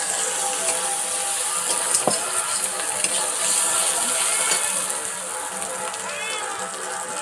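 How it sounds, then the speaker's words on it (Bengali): Chicken with ginger paste sizzles and is stirred in a pan in a village kitchen, a steady, loud frying hiss with occasional scraping clicks of a utensil, while someone speaks over it. "আদা বাটা সব একসঙ্গে ভালো করে আমি কষিয়ে নেব"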